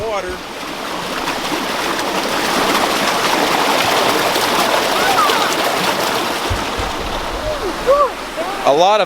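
Water rushes steadily through a rock dam addition in a creek, a continuous close splashing flow, with a few faint bird calls near the end.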